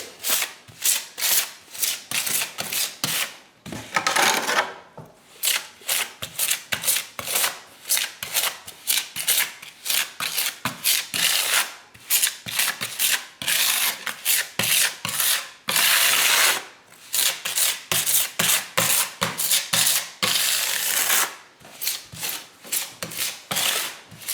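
A soft rubber grout float scraped repeatedly over a porcelain tile surface while replacing a cracked tile, giving a close, loud series of rhythmic rasping strokes with short pauses between passes.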